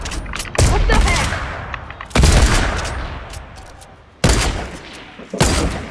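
Sniper rifle fire in a video game: four loud, close shots at spaced intervals, each a sharp crack followed by a long, slowly fading rumble.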